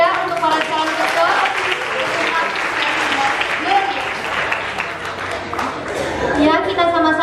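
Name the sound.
applause for student council candidates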